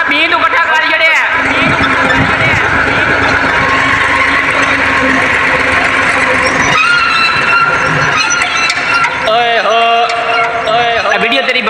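A tractor engine runs loudly and steadily close by, a dense rumbling drone with shifting tones, while people talk over it throughout.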